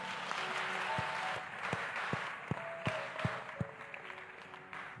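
A church congregation at a worship service breaks into steady applause, rhythmic claps forming a moderately loud, lively wash with a few sharper accents, no voices on top.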